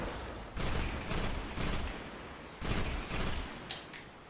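A weapon fires in the Destiny video game on PS4, in rhythmic bursts of rapid shots separated by short pauses, loud and close with no talk over them.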